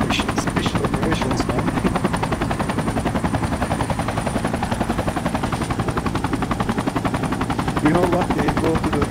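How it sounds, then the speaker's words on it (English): A helicopter in a tactical military video game thumps steadily with a loud, continuous rotor chop close by, with gunfire rattling faintly underneath throughout. "we got the chopper coming"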